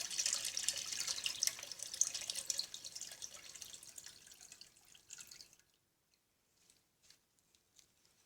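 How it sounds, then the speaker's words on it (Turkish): Last brine water draining off cured black olives, a thin trickling and dripping that runs steadily for several seconds, then stops, leaving a few faint scattered drips. "Şimdi zeytinimin son suyunu boşaltıyorum."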